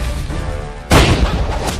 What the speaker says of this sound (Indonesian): Beta bisa mendengar ledakan meriam lagi.